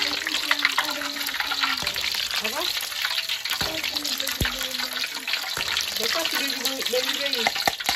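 Sweet potato sticks fry in hot oil with a dense, continuous crackling sizzle, broken by repeated scraping and clinking of a utensil stirring in the pan; a voice talks intermittently over it.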